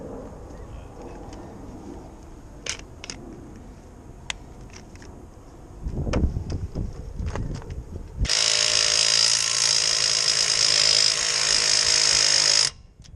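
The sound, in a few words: power drill loosening lug nuts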